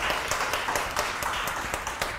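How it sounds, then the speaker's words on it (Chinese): An audience at a Buddhist dharma lecture in a Chan monastery hall claps together in a brief, fairly quiet patter of applause. "鼓掌一下"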